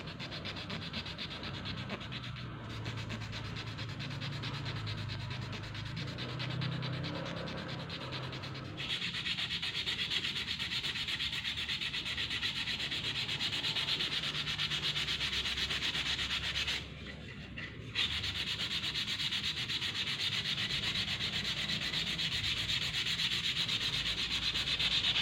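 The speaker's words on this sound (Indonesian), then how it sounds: "amplas yang kertas pasir atau amplas yang 1000, kemudian saya poles keseluruhannya agar lebih rata, lebih mulus" A wooden keris sheath is rubbed with fine 1000-grit sandpaper in a continuous, steady scraping hiss, close and even, with two brief pauses between long strokes.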